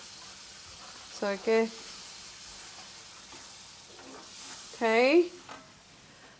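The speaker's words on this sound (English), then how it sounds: "I'm gonna mix it up a little bit here." Pork stew ingredients sizzle steadily in a pan while being stirred, a constant close frying hiss underneath, with a person briefly talking twice over it.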